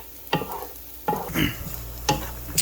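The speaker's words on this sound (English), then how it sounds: "just constantly stirring it, making sure it doesn't burn" Roux for gravy stirred constantly in a pan, a spoon scraping and swishing in three distinct strokes with light sizzling between them, close and alone.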